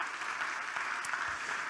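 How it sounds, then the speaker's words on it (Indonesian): Congregation clapping during a Sunday worship service in church, a soft, dense patter of many hands heard from a distance, steady and even, with no talking over it. "Tepuk tangan bagi Allah kita."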